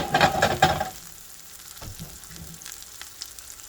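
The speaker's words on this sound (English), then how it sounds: "I like to cook my onion a little bit more softer because I feel like the flavor gets out better" Onion frying in a pan gives a soft, steady sizzle, with a few louder stirring scrapes at the start before it settles into a low, quiet crackle.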